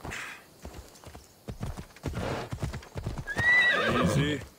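A horse gallops with rapid clip-clop hoofbeats in Assassin's Creed Odyssey, ending in a loud, close whinny after a few seconds of running.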